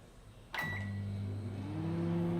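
A microwave oven on defrost hums steadily after a sharp click and brief beep, its drone rising slightly as it keeps running.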